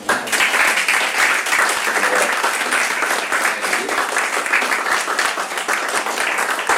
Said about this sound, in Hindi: जो लोग हैं उनके तालियां बजा सकते हैं।